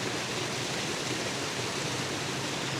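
A river rushes over rocks in a constant, dense roar of flowing water, steady and fairly loud without any voices.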